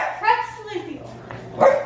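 A pet dog, Presley, gives a few short yips and barks close by at home during Christmas preparations, brief sharp calls with soft whimpering between, mixed with people talking.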